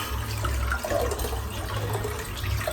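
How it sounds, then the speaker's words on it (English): Warm water runs steadily into a bathroom sink that is clogged with shaved hair, a continuous close splashing wash with no talking over it. "I've just put some warm water into the sink"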